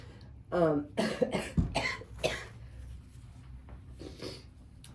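A close, throaty cough burst from a man with a cold, followed by a few rougher coughs and throat-clearing, then quiet room noise.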